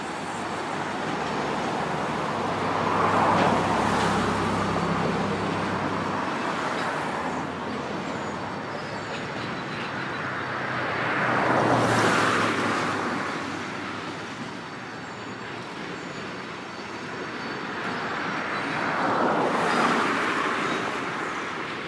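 A Norfolk Southern freight train rolls past with a Conrail autorack carrying the old Trailer Train logo, its steady rumble and wheel noise swelling and fading in repeated waves as cars go by, moderately distant with no voices.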